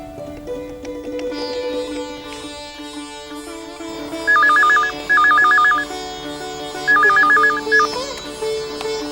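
Telephone ringing indoors in a Tamil TV serial, a loud electronic ringtone in three distinct bursts over quiet background tones, with no talking.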